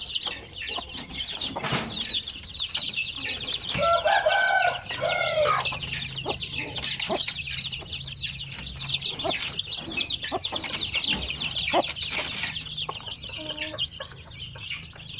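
Many high, rapid peeping chirps from a crowd of young native chicks, days to weeks old, fill the whole stretch, with a few louder clucks mixed in.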